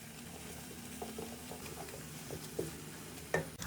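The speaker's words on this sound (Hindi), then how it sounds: "हल्का सा फ्राई करेंगे।" Soft sizzling of garlic ginger paste frying in a pan, with light stirring clicks and a few sharper taps from a utensil, close and moderately quiet.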